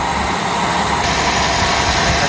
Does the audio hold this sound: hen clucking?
no